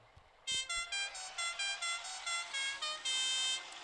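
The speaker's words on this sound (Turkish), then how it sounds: "Kornamız da bu şekil evet." A truck horn honks in a rhythm of short blasts in the video game Truck Simulator Ultimate, ending with a longer sustained blare, loud and clear over a quiet background.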